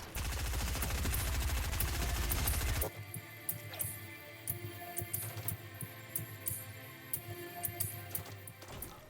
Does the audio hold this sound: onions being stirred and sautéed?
no